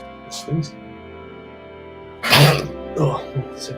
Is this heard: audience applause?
no